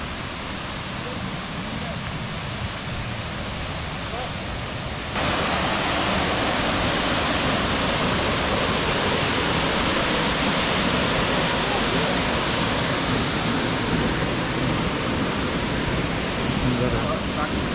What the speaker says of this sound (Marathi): तिथे धबधबा पण दिसेल. तर चला बघूया धबधबा कसा आहे